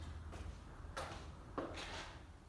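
A low-headroom garage door fitted with quick-turn brackets opens, giving a few faint, brief rumbling and rattling bursts spaced about half a second apart over a quiet background hum.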